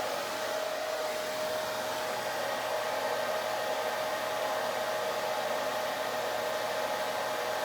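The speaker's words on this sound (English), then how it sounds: "you're going to take the diffuser and you're going to start diffusing in the middle" A hair dryer fitted with a diffuser blows a constant, even whoosh with a steady whine while drying curly hair, loud and uninterrupted with no talk.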